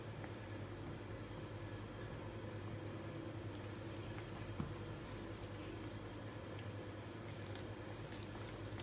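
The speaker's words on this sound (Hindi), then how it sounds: "तो अब मैं एक एक डोनट्स को उठा के फ्राई करती जाऊँगी" Nutella-filled Italian bomboloni donuts fry in hot oil at 170 °C, giving a steady, close sizzle that runs unbroken throughout, with a single brief pop near the middle and no talking.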